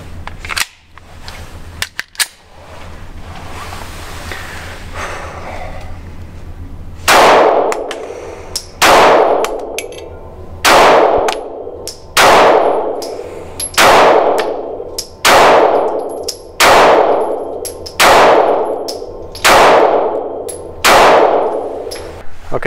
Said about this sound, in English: I've got a mag loaded up with hollow points, and we're gonna try it out